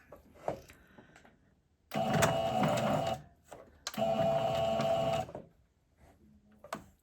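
A sewing machine runs close up on T-shirt fabric in two steady bursts, a few stitches and then a back stitch, with a brief pause between and quiet handling sounds before and after.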